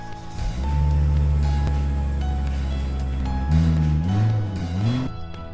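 A Volvo wagon with a straight-pipe exhaust cranks and fires up, settling into a loud, deep, rumbling idle before a couple of rising revs near the end.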